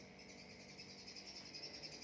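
Morning birdsong in a rural garden, faint high chirps and tweets repeating over a soft insect-like buzz, distant and continuous with no talking.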